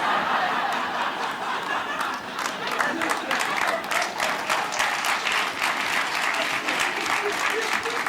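Steady audience applause fills a comedy club, dense and sustained throughout with scattered chuckles and laughter mixed in, close and loud.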